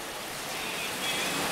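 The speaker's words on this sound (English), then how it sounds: "it is pouring down rain outside" Heavy rain pouring outside, a steady dense hiss that swells slightly, with no voices.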